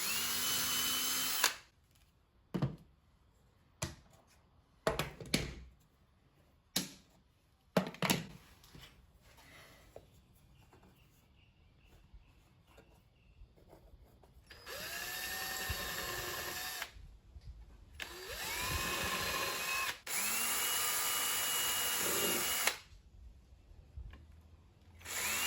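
A power drill with a pilot bit bores into a wooden board for an illuminated house number sign, starting in several short whining bursts and then running in longer steady stretches, close and fairly loud.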